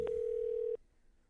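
A telephone call's ring tone sounds as a single steady electronic tone, clear and close, that holds for most of a second and then cuts off abruptly into quiet line noise.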